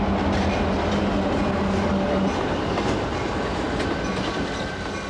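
A vintage train runs steadily on rails, with continuous loud rolling rumble and clattering wheels close by, a faint squeal early on, and no voices.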